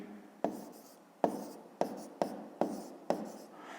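A pen writes by hand on paper, six short scratchy strokes spaced at a steady rhythm, close and quiet.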